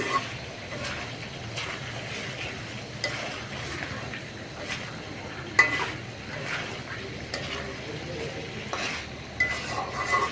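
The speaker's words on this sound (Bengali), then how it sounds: "তেল বের হয়ে আসছে তার মানে আমার মুরগিটা খুব সুন্দরভাবেই কষানো হয়েছে" Country chicken being stirred and sautéed with masala in a pan, a soft continuous sizzle broken by repeated spatula scrapes and light clinks against the metal.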